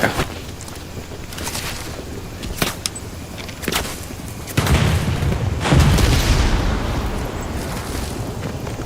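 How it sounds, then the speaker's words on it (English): A frag grenade goes off amid a Vietnam battle in the game Hell Let Loose, one heavy deep boom standing out from repeated gunfire cracks and distant blasts, with no voices. "I'm throwing a frag!"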